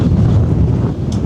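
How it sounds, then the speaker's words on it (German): Strong wind buffets the microphone at the bow railing of a ship sailing through the Romsdalsfjord in Norway, a loud, steady low rumble of gusts running throughout with a faint hiss of water beneath. "Also hier ist schon ordentlich Wind gerade vorne."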